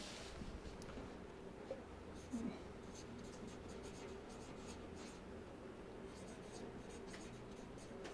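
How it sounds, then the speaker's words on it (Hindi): Marker or chalk writing a graph on a classroom board during an electrical machines lecture on transformer voltage regulation, a faint steady scratching drawn out over several seconds against room noise. "तो ये ग्राफ मैं यहाँ पे लिख देता हूँ।"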